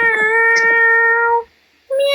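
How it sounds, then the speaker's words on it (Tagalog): A cat gives a loud, close, drawn-out meow, a short pause, then the start of another meow. "Ang cute ng pusa."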